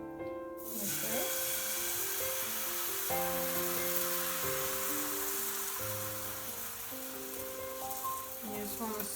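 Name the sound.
crepe batter sizzling in a hot pan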